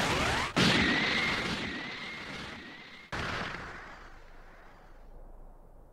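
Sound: special beam cannon attack in video game

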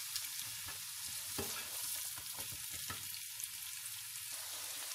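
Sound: onions frying in a pan

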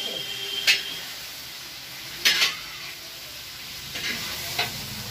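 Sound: food frying and being stirred in a pan

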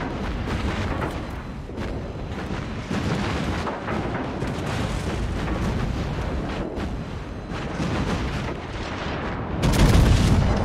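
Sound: enemy destroyer exploding in World of Warships video game

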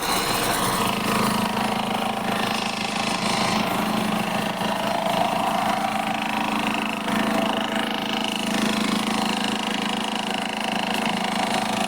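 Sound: Mahindra Xylo engine idling

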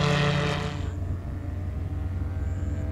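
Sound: Revo light aircraft taking off

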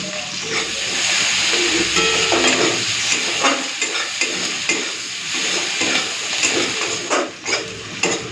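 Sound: frying onions in a pan

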